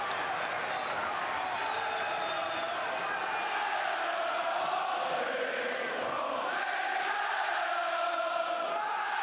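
Football stadium crowd at a match, a broad roar of thousands of voices with rising chants and cheering swelling in waves, distant and continuous throughout.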